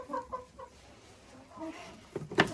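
Hens cluck inside a chicken coop, with short separate clucks near the start and a louder, sharper squawking call close by at the end.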